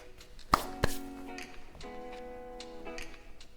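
Fresh pasta dough being cut into pappardelle, two sharp knife chops near the start followed by lighter taps against the board, close and quiet.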